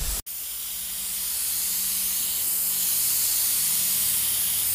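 Steady hiss of a compressed-air spray gun laying a light coat of primer over cracked Bondo body filler at low air pressure, close and continuous after a brief gap at the start.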